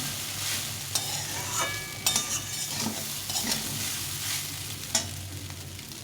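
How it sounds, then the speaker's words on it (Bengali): Vegetable chira pulao fries in a pan with little oil, a low steady sizzle broken by several sharp scrapes and clinks of a spoon stirring against the pan, with no voices. "এটাকে ভালো করে ভেজে নিব"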